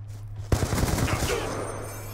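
A gun fires in the video game Black Ops 2: a sharp first shot, then a quick burst of rapid shots that rings out and decays over a low background hum.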